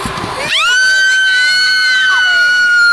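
Loud, sustained high-pitched screaming from several people riding the Viking amusement ride, rising suddenly and holding steady over a rushing background.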